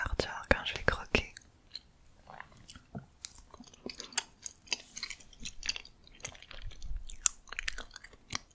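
A black sesame mochi bitten and chewed up close in ASMR style, with sharp wet bite clicks early on and then soft sticky chewing bursts, under quiet whispered talk.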